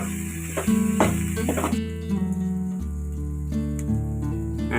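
Curry leaves and green chillies stirred into a pan for country chicken rasam, a close hissing sizzle with a few sharp spatters and spoon knocks, settling into a quieter steady fry.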